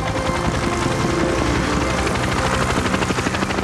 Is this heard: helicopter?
yes